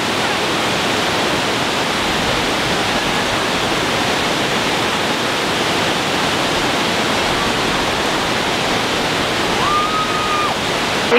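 A waterfall in Ticino, Switzerland roars as a steady, loud, broadband wash of falling and spraying water, continuous and close for the whole stretch with no voices.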